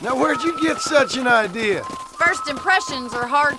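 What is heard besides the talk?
None of the usual background noises is heard.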